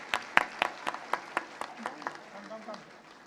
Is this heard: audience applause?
yes